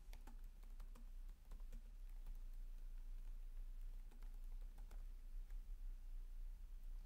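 An email address is typed on a computer keyboard while configuring email notifications in Nagios XI, a quiet run of irregular key clicks, some in quick bursts, with short pauses between them.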